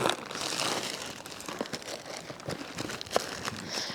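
Crinkling and rustling of plastic and cardboard as a boxed pair of Heelys wheeled shoes is handled and pulled open by hand, with scattered sharp crackles and tearing sounds, fairly close.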